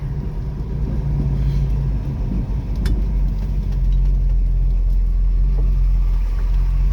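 A 1974 Plymouth Barracuda drives along after shifting into third gear, its engine holding a steady, loud low rumble that swells slightly partway through, with no other sounds over it.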